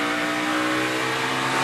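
A NASCAR Cup race car, the No. 15, powers off a corner at Bristol during qualifying, its loud high-revving engine roaring steadily close by with a harsh sustained tone.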